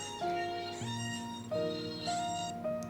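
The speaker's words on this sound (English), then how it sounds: "Sorry, that's my alarm." A phone alarm beeps in a repeating melodic pattern of short, bright electronic tones. It sounds faint and somewhat distant in a quiet room.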